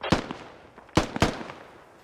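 Gunfire in the game Squad rings out as three sharp, loud cracks, one alone and then a quick pair, each with a short echoing tail, with no talk over them.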